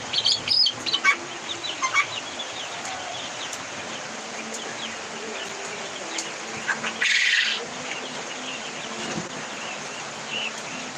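Small chicks and birds chirp in scattered, high-pitched bursts, with occasional soft clucks over a quiet steady background hum.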